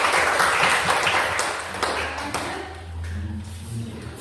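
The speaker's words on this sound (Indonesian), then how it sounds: "Berikan aplaus untuk kelompok." An audience in a classroom presentation session claps for the presenting group, a dense burst of applause at the start that thins and fades out over a few seconds.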